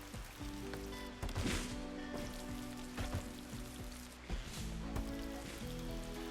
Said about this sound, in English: I don't think they'll eat at a table outside in the rain.